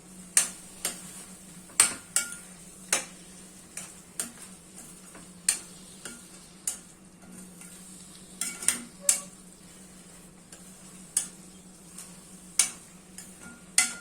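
A spoon stirs thick carrot gajrela in a pot, giving a steady run of sharp scraping clicks and taps against the metal at an irregular pace over a low background hum, with no talking.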